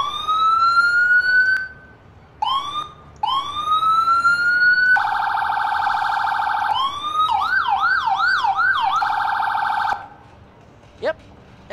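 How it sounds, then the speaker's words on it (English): An ambulance siren from the EmergeNYC game plays loud and close. It runs in short rising wails that cut off, then a steady tone, then a fast warbling yelp, ending in a single sharp click. "That's an ambulance for you."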